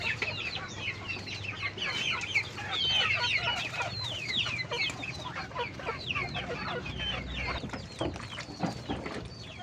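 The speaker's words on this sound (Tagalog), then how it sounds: "So ayan mga Ben, isiniperate natin itong limang piraso na ito, apat na inahin at isang tandang" Four hens cluck continuously with a rooster's calls mixed in, a busy chorus of chicken sounds close by over a low background hum.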